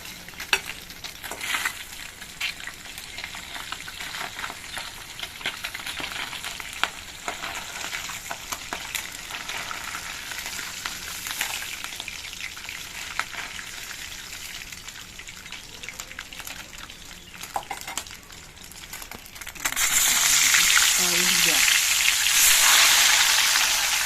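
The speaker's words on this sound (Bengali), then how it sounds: "মাছগুলো আমি খুব কড়া করে ভাজবো না, হালকা ভেজে তুলে নিচ্ছি" Pabda fish fry lightly in oil in a pan, a continuous close sizzle with scattered crackles and stirring, then a louder burst of hissing toward the end.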